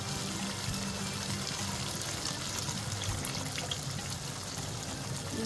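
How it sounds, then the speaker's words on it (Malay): Broth from boiled beef is poured steadily into a pan while making beef dendeng, a continuous, even watery pour with a faint splash that runs for several seconds without any talking. "Masukkan air daging yang kita rebus daging tadi."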